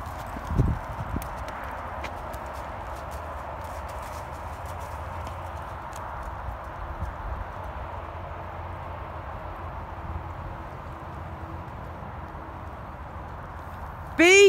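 Horse hooves clip-clopping in a steady working trot on an arena surface during a dressage test, a soft and fairly distant rhythmic beat with faint background noise and some voices.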